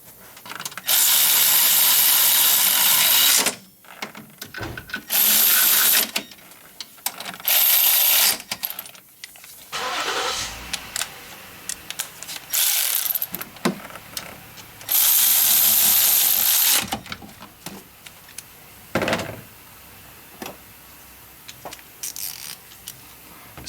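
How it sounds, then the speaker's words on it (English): Repeated bursts of quick ratchet clicking tighten power steering pump bracket bolts on a 2012 Chevrolet Silverado, separated by pauses with small metallic knocks and shuffling. "So now I'm going to tighten them."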